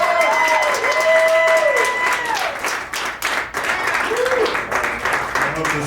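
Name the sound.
live podcast audience applauding comedian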